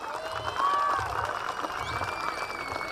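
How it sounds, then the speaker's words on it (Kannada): An audience at a village goddess festival claps steadily in a thin, moderate patter, with faint tonal music and crowd murmur running underneath. "ಅದಕ್ಕೆ ಎಲ್ಲ ಜೋರಾಗಿ ಕ್ಲಾಪ್ ಮಾಡ್ರಿ ನೋಡ."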